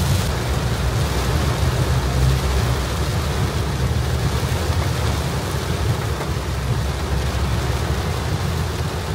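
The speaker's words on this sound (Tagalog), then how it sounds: "Grabe, lakas ng ulan." Heavy rain pours steadily throughout on a road trip from Laguna to Siargao, a dense, loud roar of downpour with a deep rumbling undertone and no voices.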